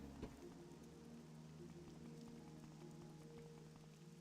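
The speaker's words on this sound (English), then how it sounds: "It's still raining, but at least it's day, so you guys can see better." Rain falls steadily in the video game Project Nova, a faint, even patter of drops with a low hum beneath and one soft thump near the start.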